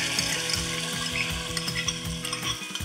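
A tempering of crushed chili and garlic sizzles in hot oil in a pan, a close, continuous crackling hiss with rhythmic stirring scrapes of a spoon throughout.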